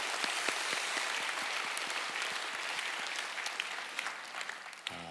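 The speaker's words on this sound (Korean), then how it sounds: "다시 한번 하나님 앞에 감사와 영광의 박수를 한번" Sunday church congregation giving a sustained round of applause in thanks and glory to God, thick clapping of many hands that thins out and gives way to a voice at the very end.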